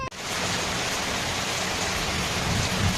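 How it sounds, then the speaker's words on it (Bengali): Heavy rain pours down steadily, a dense loud hiss that continues unbroken throughout with no voices. "এই বৃষ্টির মধ্যে কত বৃষ্টি হচ্ছে দেখছো"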